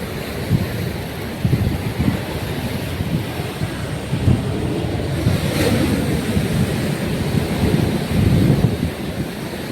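Sea waves and wind at Azhikkal beach in Kerala, a steady roar of surf with broadband wind rumble throughout, close and fairly loud, with no voices present.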